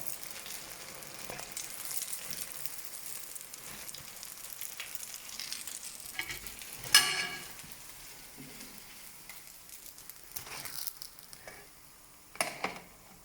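Zeppole dough sizzles and crackles in hot oil, a constant bubbling hiss with occasional sharper pops and stirring clatters close by.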